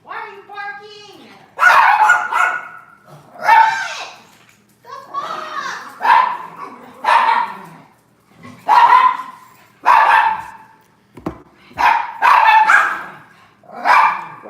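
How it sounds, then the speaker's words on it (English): A dog barks in repeated sharp bursts indoors, close and loud, in irregular clusters, with a person talking between the barks. "Why are you barking?"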